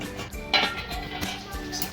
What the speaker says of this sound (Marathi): दहा मिनटं झालेली आहेत झाकण करून बघते